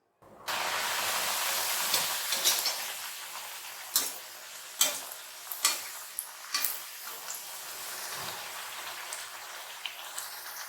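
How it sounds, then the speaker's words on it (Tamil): Thattai rice crackers deep-fry in hot oil, a dense continuous crackling hiss broken by sharp bubbling pops and occasional clinks, close and alone without talk. "இப்போ எண்ணெய் நல்லா சூடாயிட்டு இப்போ போட்டு பொரிச்சு எடுக்கலாம்."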